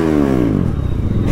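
A Bajaj Pulsar RS200 motorcycle fitted with a loud aftermarket exhaust revs up close by, the engine pitch climbing in one short burst before settling into a rough, throaty rumble.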